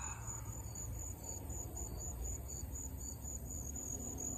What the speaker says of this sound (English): I'm just sitting here listening to the insects, the crickets